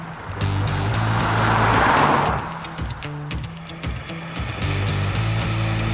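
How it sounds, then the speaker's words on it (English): A small pickup truck with a naturally aspirated 4-cylinder engine accelerating at full power, a loud sustained engine drone that rises and swells, then settles with some road noise, heard from inside the cab. "All right, full acceleration. It's pretty loud."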